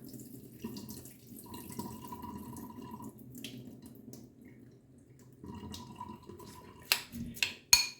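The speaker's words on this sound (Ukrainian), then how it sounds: "Рис я залила водою гарячою. Він постояв, тепер легенько злию." Hot soaking water drains off rice in a kitchen for lazy cabbage rolls, a quiet trickle and pour into a sink with light splashes and a few sharp clinks of a pot near the end, no talking.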